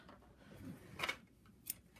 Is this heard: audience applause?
no